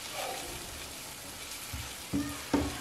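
Cumin and masala with coriander fry and sizzle quietly in a pan over a raised flame, with a couple of brief scraping stirs toward the end.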